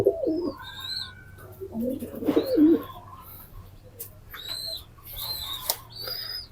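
Pigeons in a loft coo softly in low, repeated phrases, with brighter bird calls and chirps scattered through the background at moderate distance.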